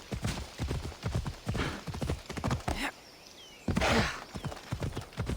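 Horse hooves clip-clop in a steady, close, rhythmic walking pattern in the Assassin's Creed Odyssey video game, pausing briefly and then resuming.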